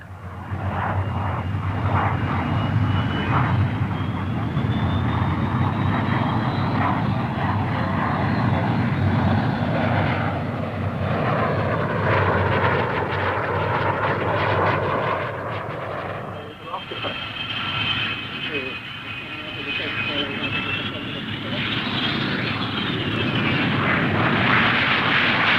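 An Aermacchi MB326 jet flies a loop at a 1960s Farnborough air show: its engine roars steadily and loudly throughout, the whine rising and falling as it passes, while a narrator talks over it.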